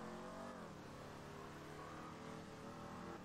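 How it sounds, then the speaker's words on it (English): A 2015 Mustang GT in GTA5 accelerates hard with wheel spin, its engine note rising in a continuous, steady roar that climbs in pitch over a few seconds, loud and close with no talking. "A little bit of wheel spin, but this thing really gets up and goes."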